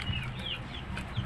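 A white hen, a laying mother hen, gives soft, low clucks with a few brief higher calls, close by against a quiet farmyard background with no talk.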